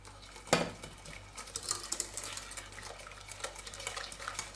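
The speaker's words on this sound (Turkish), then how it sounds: "Karıştırmaya devam." A spoon stirs a milk and vanilla mixture for a cake in a bowl, a sharp clink at the start followed by soft, repeated scraping and light tapping, fairly faint, with no talking.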